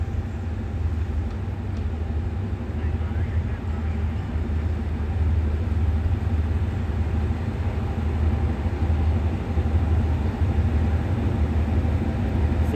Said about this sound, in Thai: ก็เปิดรถจักร มาลงเทียบในชานชาลาทาง ที่ 2 นะครับ